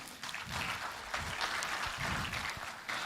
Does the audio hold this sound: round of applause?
yes